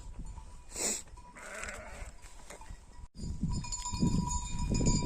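A flock of sheep heading down a road toward highland summer pasture on a warm late morning, with a cowbell clanking among a few bleats and a steady shuffle of hooves that grows busier in the second half.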